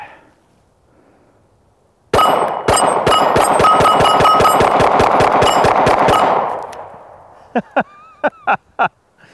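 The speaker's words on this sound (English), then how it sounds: "That's a fun gun to rapid fire." Arex Delta L Gen 2 pistol fired rapidly in a long string of about fifteen sharp, loud shots with metallic ringing, followed after a pause by a few slower single shots.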